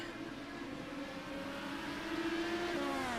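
Race cars in a racing video game accelerate off a green flag start at an Indianapolis 500 event, a blended engine drone that swells and climbs in pitch, fairly faint and steady, with no talk.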